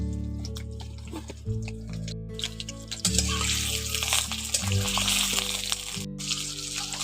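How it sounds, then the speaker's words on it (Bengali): Potato chunks frying in oil in a pan, a soft, uneven sizzle with light crackles and bubbling rising partway through, quiet and close with no speech. "আলুগুলো ভেজে নিচ্ছি।"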